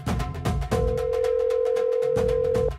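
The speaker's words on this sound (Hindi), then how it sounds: "सुन रही हो ना, फोन बज रहा है।" A steady electronic tone from a phone sounds for a couple of seconds amid rhythmic beats, with short bursts of music-like pulses around it.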